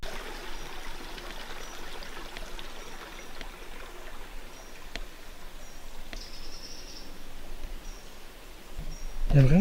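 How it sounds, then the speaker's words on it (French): A river flowing through open countryside, heard as a steady, broad rushing wash of water that holds evenly throughout, with a few faint insect or bird sounds over it and a brief louder rustle near the end. "En fait il y a une rivière mais à perte de vue quoi, c'est magnifique."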